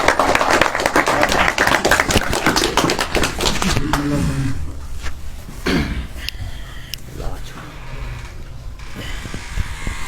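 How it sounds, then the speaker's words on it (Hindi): Audience at a mushaira poetry gathering claps to welcome a poet, loud and dense at first and then thinning to scattered claps, with some voices and rustling near the end. "जोरदार तालियां से इस्तकबाल करें।"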